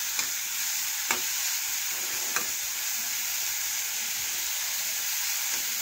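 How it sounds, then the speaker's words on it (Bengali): Pointed gourd being stirred and fried with salt in a pan, a steady sizzle with a few sharp utensil scrapes against the pan, close and continuous with no talking. "এখন লবণ ভালোভাবে নাড়াচাড়া করে পটলের সাথে মিশিয়ে নিচ্ছি।"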